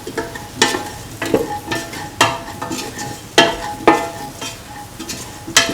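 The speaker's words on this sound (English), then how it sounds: "Mix thoroughly." A spoon scrapes and knocks repeatedly through ginger potato rice in a hot pan, a rhythmic run of sharp stirring strokes over a soft sizzle.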